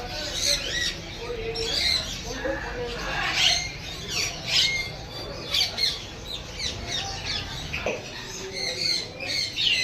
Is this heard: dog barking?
no